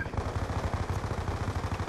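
Rapid automatic gunfire in the multiplayer shooter Black Ops 2, a fast, even burst of quiet shots repeating throughout, with faint voices underneath.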